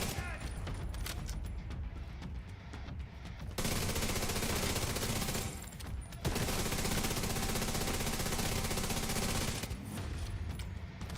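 Player's own gun firing in a video game: long bursts of rapid automatic fire in several sustained volleys separated by short pauses, close and loud, with a voice talking at times.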